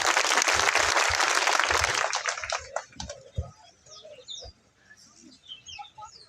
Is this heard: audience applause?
yes